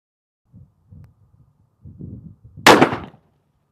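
A Ruger 480 Super Blackhawk revolver fires one loud, sharp shot at a plate, fired one-handed, preceded by soft low thumps and handling noise.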